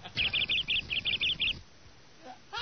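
Rapid bursts of high, repeated bird chirps in a steady rhythm over a background rumble during a comedy radio show about a fight, stopping abruptly partway through and followed by quiet.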